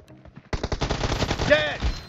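A rapid burst of SMG hipfire in the mobile shooter BGMI erupts after a brief quiet lead-in, with loud, tightly spaced shots rattling continuously for over a second and a ringing tonal tail near the end.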